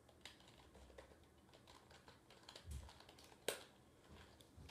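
Typing on a Red Dragon mechanical keyboard, a quiet, uneven run of soft key clicks close up with one sharper tap, alone with no talk.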